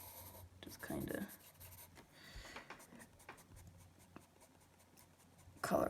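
A pencil scratches and rubs across paper while a drawing is colored in, soft and close, in short strokes with brief pauses and a louder burst at the end.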